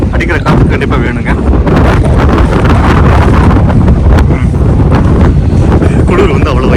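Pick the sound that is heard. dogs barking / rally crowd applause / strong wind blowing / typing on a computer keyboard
strong wind blowing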